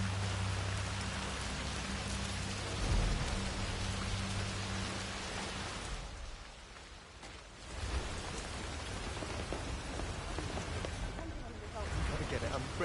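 Steady heavy rain pouring down continuously, with a low rumble of thunder early on and a few brief dips in intensity; close and fairly loud throughout.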